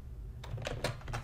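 Keys on a computer keyboard are tapped in a short burst of several quick, close clicks while text is entered into an Excel spreadsheet, with a low hum underneath and no talking.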